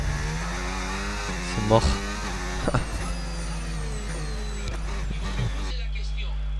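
An F1 car engine whines at high revs around the Hungarian GP in the F1 25 video game, the tone shifting through gear changes and cutting out near the end, while someone talks over it.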